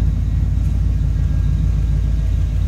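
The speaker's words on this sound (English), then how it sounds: "Deep rumble coming out of that" A 1952 Chevrolet 3100 pickup with a 350 V8 and a mild cam idles close by, giving a deep, steady, loud low rumble that stays even from start to finish with no talking.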